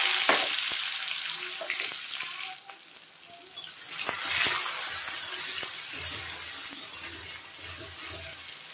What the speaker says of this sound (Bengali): পেঁয়াজ আর টমেটো দিয়ে দিলাম।